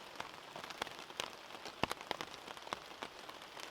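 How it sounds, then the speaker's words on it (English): Rain falls steadily at a wild campsite at night, a dense close patter of drops striking a surface with sharper individual taps scattered throughout, no voices. "I hope the rain isn't too loud on the mic"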